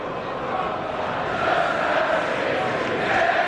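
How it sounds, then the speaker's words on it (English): A football crowd at Anfield during a Liverpool all-star charity match sings as one dense, continuous roar of voices that swells slightly toward the end. "the Anfield crowd is now singing the name of Luis Suarez"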